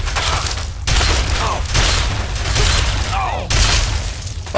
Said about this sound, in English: I can't get enough of this explosion-y goodness.